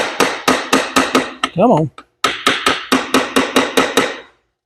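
Hammer blows on the clutch cover of a Yamaha IT175K dirt bike, close and loud in a steady run of sharp metallic raps with a short break and a brief spoken exclamation partway through.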